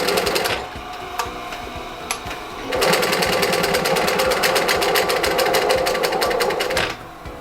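A sewing machine whirs with a rapid, steady needle clatter, starting after a quieter stretch, running loudly for several seconds and then winding down to a stop.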